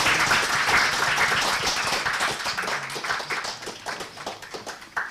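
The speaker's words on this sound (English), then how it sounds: "A big round of applause to ma'am." Audience applause at a research methodology workshop, a dense burst of many hands clapping that starts full and gradually thins into scattered individual claps as it fades.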